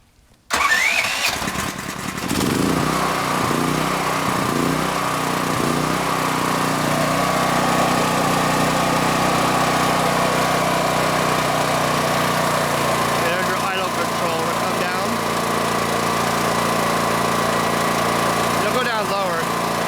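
A DuroMax XP13000EH hybrid dual fuel generator starts with a sudden burst and settles into a loud, steady running drone that holds close and constant to the end.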